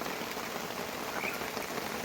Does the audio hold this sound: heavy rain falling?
yes